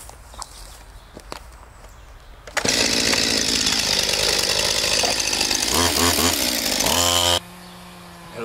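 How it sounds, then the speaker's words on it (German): A chainsaw roars loud and close while felling a tree in woodland, starting abruptly after quiet rustling and steps, then revving and dropping pitch before cutting out to a lower idle. "Ey, das ist eine Kettensäge."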